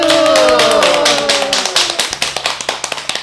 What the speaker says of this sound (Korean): 모두 박수!